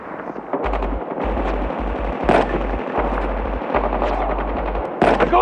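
Rapid machine-gun bursts in Call of Duty Mobile, loud and close, firing in repeated volleys with short gaps and a sharper shot or two standing out.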